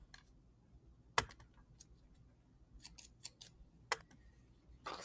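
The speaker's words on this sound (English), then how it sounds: "you're going to get your black paper and you're going to cut a U shape out of it" Scissors cutting black construction paper for a penguin craft: a few sharp, quiet snips spaced unevenly over several seconds, close by in an otherwise hushed room with no talking.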